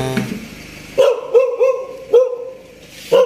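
A dog barks several times in short, spaced bursts, fairly close and loud, with quiet pauses between the barks.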